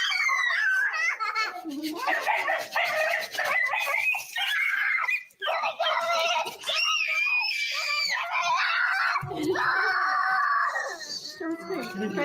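A young child screams loudly and almost without a break in sustained, shrill wails. The child is close to the microphone, and a few short gaps and a brief dip in the middle break up the screaming.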